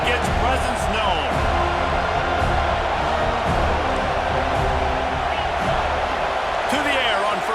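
A packed college football stadium during Penn State versus Florida State, a loud, constant roar of crowd noise with swelling cheers, under a commentator's voice.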